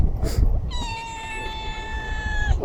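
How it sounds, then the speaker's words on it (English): A stray cat gives one long, drawn-out meow close by. It rises from a rumbling, noisy background and holds steady before trailing off. "My favorite kitty, hello."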